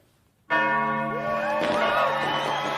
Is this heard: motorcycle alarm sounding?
no